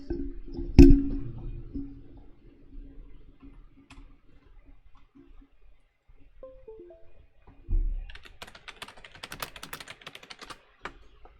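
Typing on a computer keyboard: after a few low thumps and a quiet stretch, a burst of rapid, fairly close clicking keystrokes runs for several seconds, with no voices.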